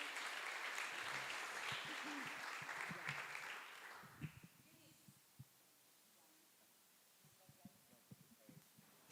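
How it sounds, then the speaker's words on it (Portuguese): A church congregation claps in a burst of applause during a Sunday evening service, dense and lively at first, then fading into scattered claps and low voices. "Dê uma salva de palmas a Jesus"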